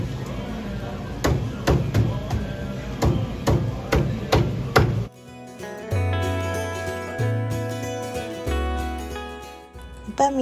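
Repeated sharp chopping thuds as a pompano fish is cut up at a fish market, a regular series of blows followed by heavier, slower chops amid market background noise.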